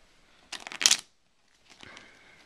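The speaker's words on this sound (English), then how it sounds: "Shuffle it up." A quick riffle of a card deck being shuffled, one short burst up close, followed by a softer card sound and quiet.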